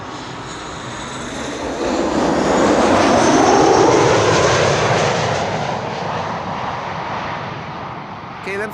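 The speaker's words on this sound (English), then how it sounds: "KLM flight 1614 arriving from Milan, 737." KLM Boeing 737 arriving at Amsterdam Schiphol Airport from Milan, a loud rushing jet roar swelling to a peak mid-clip and then easing off as it passes, with talking underneath.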